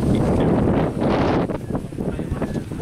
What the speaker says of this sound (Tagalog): Masarap ang hangin.